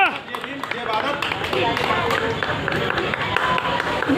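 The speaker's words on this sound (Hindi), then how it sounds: "तालियां" Clapping and crowd noise at a Bhim Army foundation day rally in Trilokpuri, a dense, steady wash of hands and voices from a large outdoor gathering with shouts mixed throughout.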